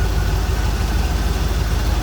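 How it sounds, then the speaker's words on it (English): A warmed-up 1982 Chevrolet Corvette Collectors Edition V8 settles at low idle, a loud, steady low rumble with an even, pulsing beat, heard close up from the engine bay with no voices. "As you can tell by listening, it has warmed up and it's down idling on the low idle."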